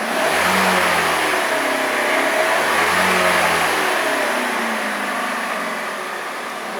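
Kia Forte engine revved a few times after an oil change, mid-pitched engine swelling and falling in short repeated bursts, steady and close with no talk.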